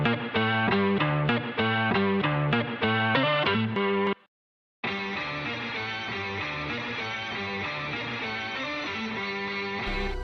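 A guitar pattern runs through an RC20 plugin and a Positive Grid Bias FX2 amp simulator for a beat: rhythmic, effected chords repeat, cut out briefly, then return as a thick, sustained wash.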